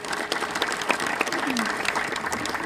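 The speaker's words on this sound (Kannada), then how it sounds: "ಇನ್ನೊಂದು ಸಲ ಜೋರಾದ ಚಪ್ಪಾಳೆಯನ್ನು ನೀವೆಲ್ಲ ಬಾರಿಸ್ಬೇಕು" Audience applause at a village religious gathering, a sustained patter of many hands clapping at close to moderate distance, with a faint voice underneath.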